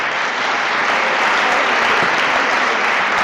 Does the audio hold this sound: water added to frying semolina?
no